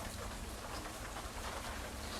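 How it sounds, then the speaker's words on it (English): Steady rain falls outside as a dense, even hiss with no gaps, fairly loud and unbroken, and no voices are heard. "So it's raining."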